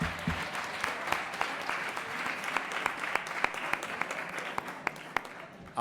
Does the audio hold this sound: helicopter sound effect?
no